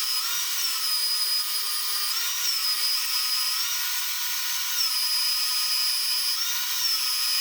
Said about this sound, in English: I've got my belt sander just turned upside down on my welding table